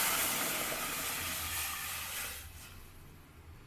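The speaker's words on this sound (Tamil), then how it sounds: "பட்டோடனே இந்த சூடான தண்ணியை இதில் சேர்த்துடலாம்." Hot water poured into semolina roasting in oil sends up a loud steaming hiss that fades over a few seconds, with no talking.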